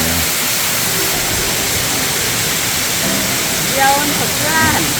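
A cool garden waterfall in an arboretum pours in a constant dense rush close to the microphone, with faint chirps and a brief voice murmur breaking through near the end.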